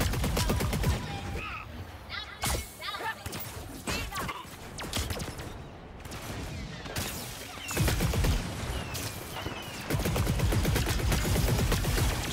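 Rapid weapon fire in Star Wars Hunters, an arena shooter, comes as dense bursts of sharp shots clustered in loud volleys, with a voice talking over the gunfire.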